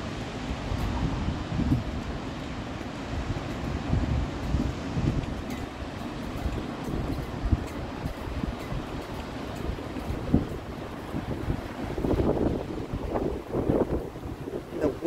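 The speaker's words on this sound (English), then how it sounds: "The wind picked up with it." Gusting wind roars across the microphone in a continuous rumble, swelling stronger toward the end as a tidal bore approaches in Moncton.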